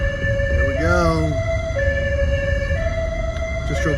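High-low evacuation sirens sounding during a Fitch Mountain evacuation exercise, two alternating tones switching steadily back and forth, loud and close over road and engine rumble, with a brief warbling siren sweep near the start.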